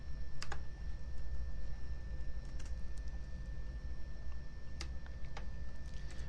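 Sparse keystrokes tap on a computer keyboard, a few quick clicks near the start and a short cluster toward the end, faint over a low steady room hum.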